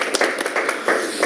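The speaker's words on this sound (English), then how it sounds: "Give a round of applause." Audience applause at a live talk as a volunteer is called up, a dense, steady patter of many hands clapping for just over a second.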